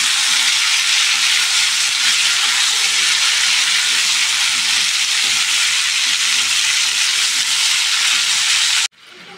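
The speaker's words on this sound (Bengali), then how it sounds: "একটু ভেজে নেব সাজনাগুলি।" Drumsticks, the long moringa pods, fry in hot oil with a loud, dense, continuous sizzle that holds steady throughout, then drops suddenly to a quieter hiss at the very end.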